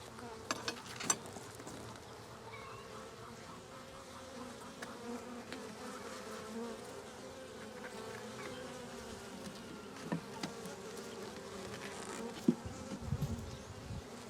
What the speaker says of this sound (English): There's still a lot of bees in here.